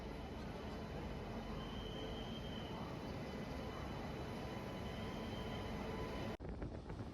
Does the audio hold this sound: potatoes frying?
no